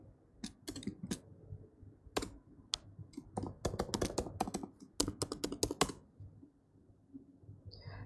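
Fingers typing a command on a computer keyboard while installing pgAdmin on a Red Hat based system: bursts of quick, close key clicks with short pauses, denser toward the end, then a brief quiet tail.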